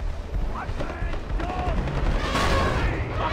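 Grenade launcher fire in the video game Far Cry 4, sounding as a dense run of booming shots and bursts with a loud swell near the end, heard under game noise and a talking voice.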